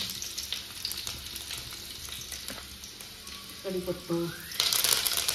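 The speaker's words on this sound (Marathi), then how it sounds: "तेल तापला मस्त पैकी आता काय टाकतो लसूण टाकतोय" Garlic dropped into hot oil for a Konkan-style fish curry, giving a steady crackling sizzle close by, with a brief clatter as it goes in and the frying growing brighter toward the end.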